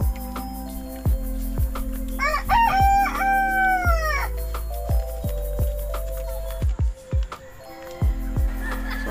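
Rooster crowing in a long rising-and-falling call near the middle, with repeated short chicken clucks and thumps scattered throughout, close and fairly loud against a steady low hum.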